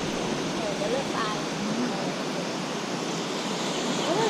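Ocean waves wash onto a beach in Thailand as a steady, broad roar of surf, with faint voices murmuring underneath throughout.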